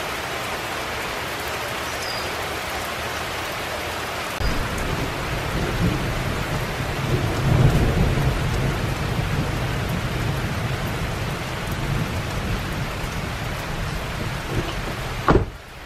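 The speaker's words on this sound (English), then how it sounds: "a thunderstorm." Steady rain hisses throughout while a deep thunder rumble swells in the middle, followed by a sharp close crack near the end.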